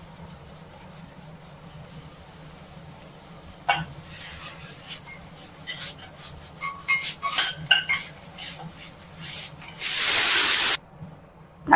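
Crushed ginger and garlic frying with onions and tomatoes in a pan for a broccoli fry, heard as scraping, stirring bursts and a loud sizzling hiss near the end, with no talk.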